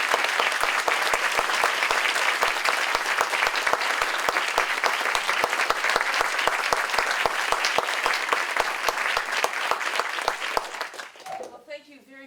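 Sustained audience applause greets a lecturer at the 2020 Richard M. Dorson Memorial Lecture in Bloomington, steady dense clapping for about ten seconds before fading out as a voice begins.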